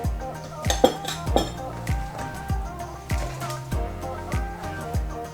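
Pepper slaw is tossed with oil and vinegar in a bowl, giving a regular series of close clinks and knocks from a utensil against the bowl, about two per second.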